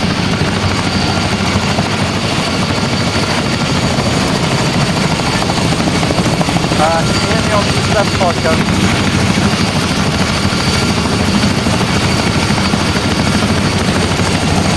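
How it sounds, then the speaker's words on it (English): Helicopter rotor and engine noise right beside the microphone during a training flight, a loud, steady roar that fills the whole stretch while a voice calls out over it. "That's the chopper right in my ear."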